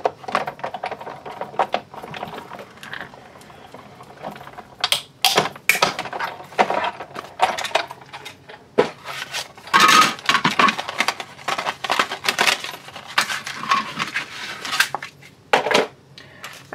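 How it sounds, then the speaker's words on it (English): Repeated sharp clicks and crunches of a 1/8 inch circle punch biting through paper and cardstock pieces, close up, in irregular bursts with short pauses between them. "This time I'm just using our 1/8 inch circle punch."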